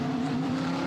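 A Nissan race car laps at the Spa 24 Hours, its steady engine note droning loud and close for a short moment with no talk over it.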